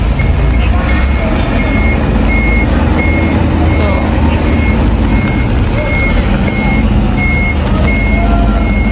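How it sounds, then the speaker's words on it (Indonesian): A bus sounds steady, evenly spaced reversing beeps while parking in a busy lot, the tones repeating regularly over a constant engine rumble and background crowd noise. "Bang Bemuel mau parkir di mana ya?"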